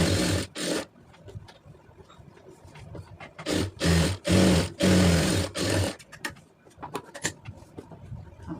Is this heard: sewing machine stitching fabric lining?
yes